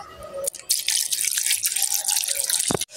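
Water splashes and trickles steadily for a few seconds, close up, with a brief drip and pause before the flow resumes.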